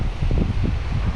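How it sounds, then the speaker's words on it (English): Trade winds of 15 to 30 buffet the microphone in low, rumbling gusts on the North Shore coast near Waimea Bay, a brief steady roar outdoors with no voices. "It's gonna be a windy one."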